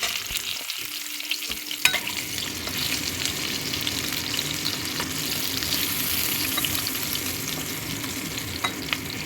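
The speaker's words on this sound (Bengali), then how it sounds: "আমার আলুটাও ভাজা হয়ে গেছে।" Potatoes frying in hot oil for a fish curry, a steady dense sizzle with occasional stirring clinks, close and continuous with no talk.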